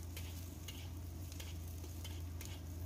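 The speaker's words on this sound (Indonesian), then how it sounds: "Kita tumis semuanya sampai" Garlic, chili and scallions stir-fried in a pan, a steady close sizzle with soft scraping strokes recurring every half second or so, no voices.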